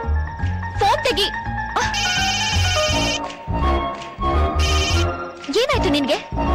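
A telephone rings in two bright, trilling bursts. It is mixed with loud dialogue, music and other sounds from a Kannada film scene.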